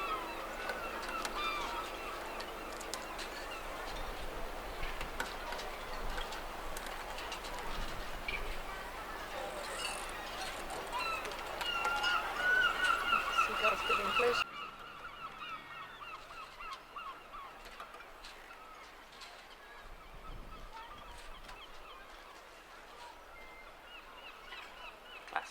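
Geese honk repeatedly around a harbour in Bridlington, loud and fairly close and then softer in the second half. Boats and wind-blown flags are nearby, with a little talk now and then.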